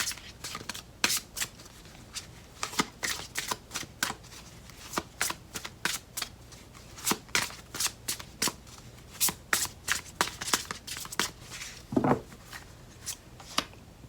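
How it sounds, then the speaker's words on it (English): Romance angel oracle cards being shuffled by hand, a close run of crisp riffling and slapping bursts repeating steadily with no talking. "What romance angel card they have for you?"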